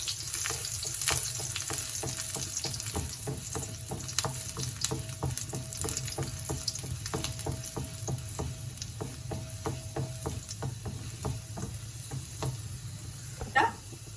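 Garlic frying in a little oil, a soft bubbling sizzle dotted with small sharp crackles and pops, fairly quiet and close, with one brief louder clatter near the end.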